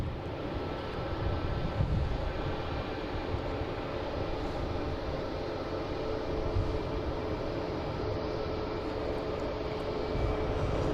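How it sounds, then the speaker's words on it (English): A Delta Airbus A220 jet arriving at Boston Logan International Airport gives a steady, broad engine roar that holds at an even level throughout, with no one speaking over it. "Now we got Delta coming in from Austin. A220, flight 1156"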